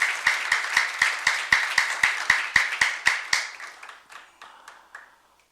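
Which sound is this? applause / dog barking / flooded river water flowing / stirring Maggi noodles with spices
applause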